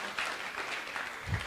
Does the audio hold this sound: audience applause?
yes